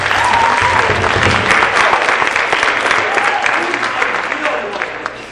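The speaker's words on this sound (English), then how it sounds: "Let's give a round of applause for Joanna." Loud, sustained applause from a concert audience at a spring instrumental concert, dense clapping that stays full for several seconds before gradually tapering off.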